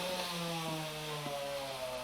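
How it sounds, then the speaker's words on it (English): Chainsaw droning outside an open window, a steady buzzing engine tone with faint shifts in pitch as it works, heard at a moderate distance and fairly muted indoors, with no talking. "my dad is using a chainsaw, and the window is wide open"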